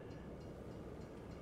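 A freight train in the Farming Simulator 22 game approaches down the line, a steady, even rumble of rolling wagons that holds constant throughout, with no voices over it.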